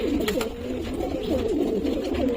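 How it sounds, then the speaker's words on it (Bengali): A male Madras pigeon in a loft coos in soft, repeated throaty rolls, close and clear, with faint rustling behind and no talking. "এটা হচ্ছে নর্মাল ম্যাড্রাস মেল পায়রা"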